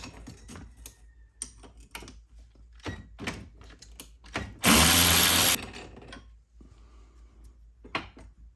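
Ratcheting and wrench clicks on the bottom shock bolt of a Club Car Precedent golf cart's suspension, a run of sharp metallic taps and ticks with one loud harsh burst midway, close up, no talking.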